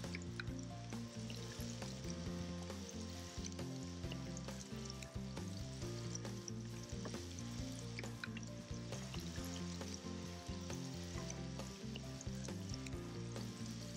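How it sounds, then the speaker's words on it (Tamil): Fried paneer sizzling in a pan for Schezwan paneer, a steady crackling hiss of frying with faint stirring, close and fairly quiet, continuous throughout with no talk. "இதோட நம்ம ஃப்ரை பண்ண பன்னீரை ஆட் பண்ணுறோம்."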